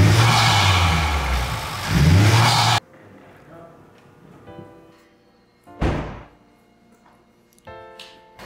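A Honda Civic Type-R, freshly fitted with a new intake, charge pipe and titanium inlet, roars loudly with revving for a few seconds, then cuts off. Quieter knocks, a sharp thud and a few short tones follow.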